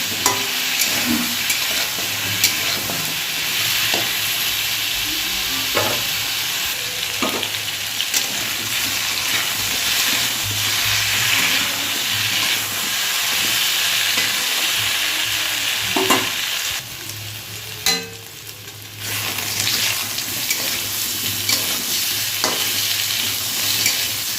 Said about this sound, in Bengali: বেগুন দেওয়া হয়ে গেলে ভালো করে করে এগুলো ভেজে নেবো